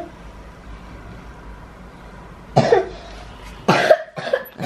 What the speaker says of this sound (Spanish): tiene tremenda tos